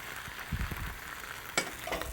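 Drained Brussels sprouts with garam masala and a coconut spice paste are sautéed together in a pan, giving a soft, steady sizzle broken by a single clink of a utensil.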